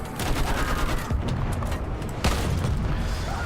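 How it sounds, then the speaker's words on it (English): A field gun firing in Battlefield 1, heavy booming blasts with rolling rumble and scattered gunfire around them, loud and continuous through the whole stretch. "Field gun, take a shot!"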